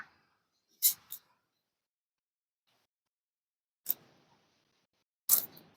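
Three tarot cards are drawn from a deck one by one: crisp, close card snaps and flicks, with a quick double flick first and then two more single snaps, each separated by silence.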